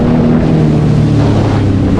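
A Sea-Doo personal watercraft on cruise control accelerates through a turn. Its engine gives a loud, close, continuous drone whose pitch shifts slightly, over rushing wind and water noise.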